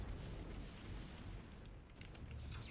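Rumbling booms and crackling blasts from StarCraft cannons being destroyed in a free-for-all match, a dense, continuous wash of game explosions with no talking.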